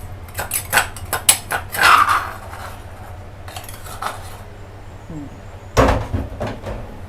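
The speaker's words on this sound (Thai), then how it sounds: "คุณตั๊กก็จะผัดนะคะ" Stir-frying in a pan with fresh garlic and red chilies in coconut oil, giving loud metallic clanks and scraping of a utensil against the pan in uneven bursts, ending in one heavy clatter.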